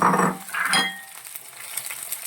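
Green chillies and curry leaves sizzle in hot oil for a bitter gourd pickle, with a burst of frying at first and then a quieter crackle, close and without talk.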